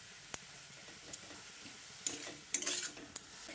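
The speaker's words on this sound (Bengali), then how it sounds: "বিটটা দিয়ে পেঁয়াজের সঙ্গে ভালো করে মিশিয়ে নিচ্ছি।" Grated beetroot being stirred with onions in a pan over a low to medium gas flame, with scattered light clicks and scrapes of a utensil against the metal and a few louder clinks over a faint steady background.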